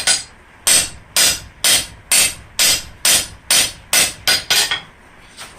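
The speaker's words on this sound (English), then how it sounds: "sometimes you'll just have to hammer on it a little bit to get it straightened out to where you want it" Blacksmith hammer strikes on steel flat bar stock being tapered and straightened, about a dozen loud, ringing metallic blows at a steady rhythm, the last few coming quicker.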